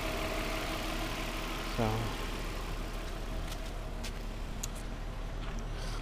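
A 2005 Infiniti G35 sits at idle with a low, steady, quiet engine hum, while a person speaks briefly over it.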